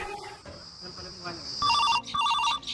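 A telephone rings after a call is placed, its electronic ringtone trilling in short repeated bursts over a faint background.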